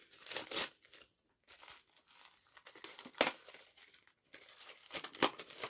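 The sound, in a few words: opening a plastic package containing false eyelashes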